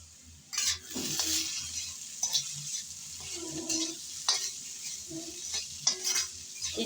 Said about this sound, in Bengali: কিছুক্ষণ পর এসে ঢাকনা উল্টিয়ে আবারও একটু নেড়ে চেড়ে মিশিয়ে নিচ্ছি।